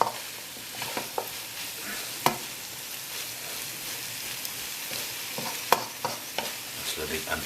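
Pork with garlic and ginger frying in a pan for a Nepalese Gurkha curry, giving a steady close sizzle broken by a few sharp clicks and scrapes of stirring, with no talking.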